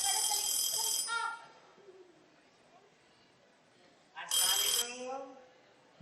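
A telephone rings in a stage play, two loud bright bursts of electronic ringing separated by a quiet stretch with faint voices and room sound between them.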